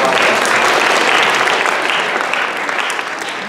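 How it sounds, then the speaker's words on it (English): A school audience at a mental-math show applauds for themselves in a dense, steady wash of clapping, loud and close, holding for a few seconds before thinning slightly at the end, with no voices over it. "Give yourselves a nice round of applause."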